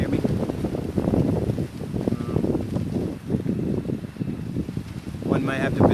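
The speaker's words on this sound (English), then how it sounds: "It's a little windy out today." Gusty outdoor wind buffeting the microphone with continuous low rumbling that rises and falls, heavy throughout, with a voice faintly present underneath.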